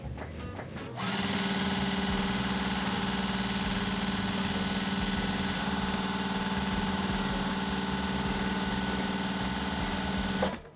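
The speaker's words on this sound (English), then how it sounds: "Time to start sewing." A sewing machine stitches a quilt in one long continuous run, a steady close mechanical whir starting after a second and stopping abruptly near the end.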